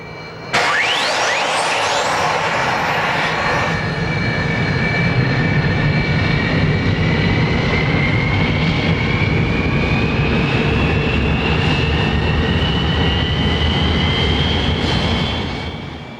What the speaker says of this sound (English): Barry Pover of Classic Jets has brought no fewer than 5 Hawker Hunters to the Biggin Hill Air Fair.